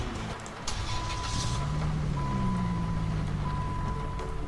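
A car in the Roblox game Greenville starts up: a short cranking burst, then a steady engine idle with a rising tone and a faint repeating chime, close and fairly loud with no talk.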